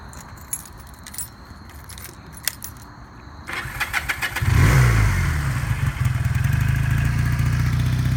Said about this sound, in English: I'm gonna get my keys out of the trunk here